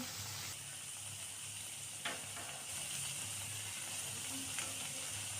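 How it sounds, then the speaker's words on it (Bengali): Drumstick flower fritters fry gently in oil on low heat, a soft steady sizzle with a couple of faint clicks, no talking over it. "এই পিঠটা আবার আঁচ কম করে ভাজবো"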